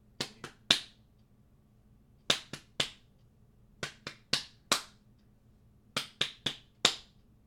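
Sharp hand claps tap out a song rhythm in close, dry groups of three or four, with short pauses between the bursts and a faint hum underneath.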